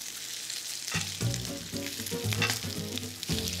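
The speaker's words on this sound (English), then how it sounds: "Let's flip our bacon." Bacon frying in a pan until crispy gives a steady, close sizzle with a few brief stirring or flipping movements and no voices.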